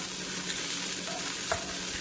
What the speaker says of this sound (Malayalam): ഒരു മിനിറ്റ് കഴിയുമ്പോൾ വീണ്ടും ഇളക്കി